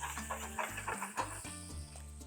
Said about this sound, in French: je vais faire fondre du beurre également pour faire revenir mes champignons